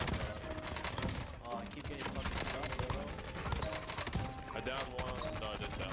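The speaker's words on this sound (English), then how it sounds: "Another clip then surfaced where Captain Baldy displayed suspiciously accurate shooting" Rapid gunfire from a first-person shooter video game, loud and continuous bursts of shots across the whole stretch, layered with game effects and some voice underneath.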